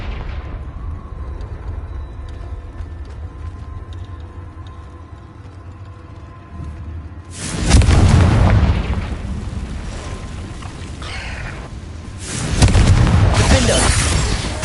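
A Confringo fire spell in Hogwarts Legacy sets off two heavy, roaring explosions several seconds apart, loud and close, each with a rumbling tail over a low ambient cave hum.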